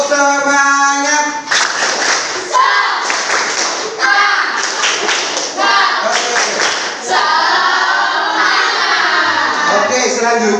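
Schoolchildren in a classroom clapping a rhythmic spirit cheer, with bursts of group claps and thumps mixed with children's chanting voices, loud and close throughout.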